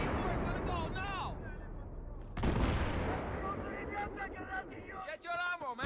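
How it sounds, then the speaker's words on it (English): C4 explosive detonating in Battlefield 3 on PS3: a sudden heavy blast cuts through ongoing gunfire and battlefield chatter, with voices heard over the action before and after. "Watch out, C4 is going to blow now."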